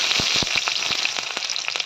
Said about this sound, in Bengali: তরকারির জন্য ভাজা হচ্ছে আলুগুলো